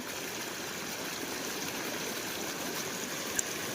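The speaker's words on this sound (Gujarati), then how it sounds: "સતત પાણી નીકળે છે" Floodwater from days of heavy monsoon rain in Junagadh's Ghed area flows on without a break, a steady rushing wash of moderate loudness with no voices over it.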